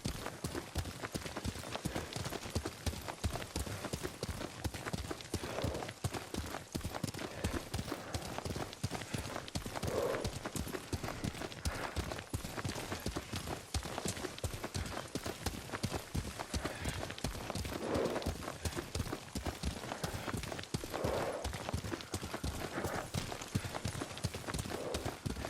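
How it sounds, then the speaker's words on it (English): Horse hooves clip-clop steadily at a riding pace in the Ghost of Tsushima video game, a long run of close, rhythmic thuds with occasional snorts and faint game sounds beneath. "Lord Sakai taught me to ride a horse."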